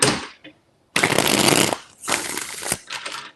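Tarot cards are shuffled up close in several crisp riffling bursts, the first short and the next two longer, with brief pauses between them.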